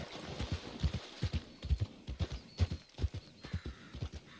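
Shire horse hooves clip-clopping in the video game Dragon Age: The Veilguard, a steady, close rhythmic series of hoofbeats on ground with faint ambient background.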